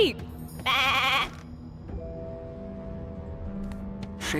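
A single loud sheep bleat in the video game Divinity: Original Sin II, wavering and nasal, followed by quieter tonal background sounds and a short burst at the end.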